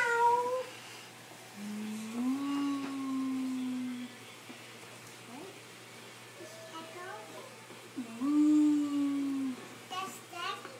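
A voice imitates a cat, giving drawn-out meows with rising and falling pitch, mixed in with other short bits of child speech in a quiet room.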